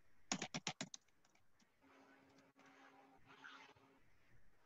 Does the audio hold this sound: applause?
no